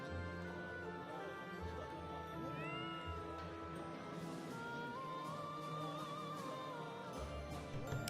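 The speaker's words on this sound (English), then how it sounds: "Enjoy this cat sitting on this bench" A cat meows repeatedly in the Fire Emblem: Three Houses monastery, drawn-out mewing calls rising over layered background music, moderately loud and with no talking.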